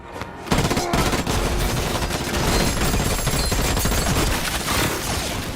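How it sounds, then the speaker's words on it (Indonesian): Dense, loud gunfire from a film scene, with rapid automatic bursts and overlapping shots forming a continuous barrage that fills nearly the whole stretch with no pause. "datang lagi beberapa musuh yang langsung memberondong Bastian dengan tembakan."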